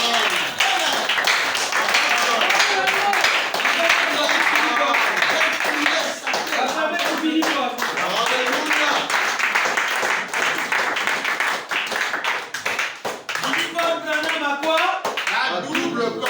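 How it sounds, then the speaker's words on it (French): A church congregation claps to acclaim the Lord, a dense, continuous wash of many hands filling the room, loud and steady throughout with voices mixed in underneath. "Qui peut acclamer le Seigneur?"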